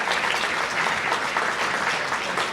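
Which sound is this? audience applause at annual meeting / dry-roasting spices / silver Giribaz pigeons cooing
audience applause at annual meeting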